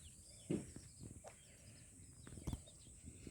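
Several chickens on a poultry farm cluck softly at a distance, a few short sharp calls standing out against a faint steady background hiss.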